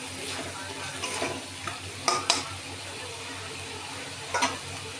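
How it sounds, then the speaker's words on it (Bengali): Spice masala fries in oil in a pan for a yogurt bhindi dish, a soft steady sizzle broken by several scraping stirs of a spatula, close and moderately quiet. "মশলাটা আমার ভাজা হয়ে গেছে"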